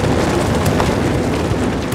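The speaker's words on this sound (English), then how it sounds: "The sound was just all these explosions just going off around me." Reenacted explosions boom continuously around a close listener near a cliff, a dense, loud barrage of rumbling blasts with no pause between them.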